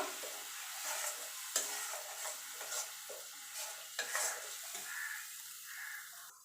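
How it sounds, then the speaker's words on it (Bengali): Ground mustard paste is stirred into a pointed gourd curry in a pan, soft sizzling under a series of distinct spoon scrapes and knocks against the pan, close and with no talking. "এবার যে সর্ষেটা আমি বেটে রেখেছিলাম সেটা দিয়ে দেবো। দিয়ে ভালো করে মিশিয়ে নেব।"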